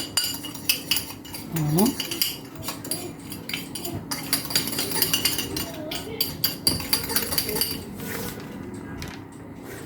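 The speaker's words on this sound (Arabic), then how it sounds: "كنخلطوها مع صفار البيض وكنخلطو مزيان" A spoon clinks and scrapes against a bowl while stirring egg yolks with sugar for a chocolate mousse ice cake, steady rhythmic clatter close up, with someone talking over it.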